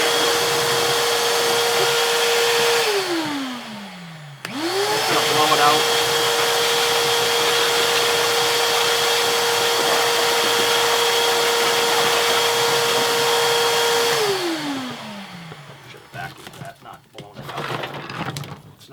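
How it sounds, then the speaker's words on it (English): A shop vac roars as it cleans out a furnace box, winding down to a stop, then starting up again to run steadily at a loud, even whine before powering down. Faint clatter follows at the end. "I've got my shop vac over here, and I'm going to clean out this box right now"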